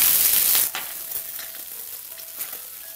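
Curry leaves hit hot oil with a loud burst of sizzling that cuts off after about half a second, leaving a softer, steady crackle with faint clinks.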